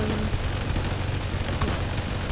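Shotgun blasts from a soldier unit in a Roblox tower defense game, dense booming shots packed together over steady loud background game noise.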